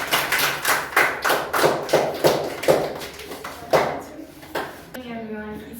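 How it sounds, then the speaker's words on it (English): A classroom of Grade 10 students claps for a presenter, a sparse, uneven run of hand claps and thumps at close range that thins out toward the end. "Let's welcome Jashmin with give big round of applause."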